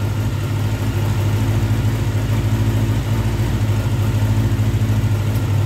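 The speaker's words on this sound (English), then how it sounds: "Choke's off, so it's idling." A Honda Nighthawk parts-bike motorcycle engine idles steadily with the choke off, a low, even rumble and putter holding a constant pace throughout with no revving.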